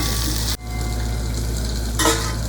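Brinjal sautéing in oil in a covered pan, a steady close hiss of sizzling with a sharp clatter near the start and a brief louder burst toward the end.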